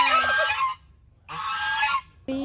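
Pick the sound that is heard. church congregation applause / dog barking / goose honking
goose honking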